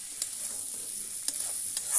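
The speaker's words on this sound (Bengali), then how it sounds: "আরেকবার ভালো করে সমস্তটা মিশিয়ে দেব, যাতে তলায় লেগে না যায়," Dried fish bhuna (loitta shutki) being stirred in a pan, with a soft steady sizzle and a few faint scraping strokes of the spoon, close and quiet, no voices.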